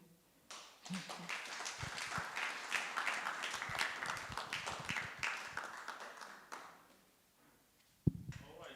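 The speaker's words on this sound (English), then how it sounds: "A round of applause. Keep on clapping." Audience applause and clapping after a presentation, a dense sustained round that swells for about six seconds and then fades, ending with a sharp knock near the end.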